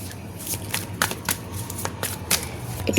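Tarot cards shuffled and drawn by hand, a quick series of crisp riffling snaps and soft slides at uneven intervals, close and fairly quiet.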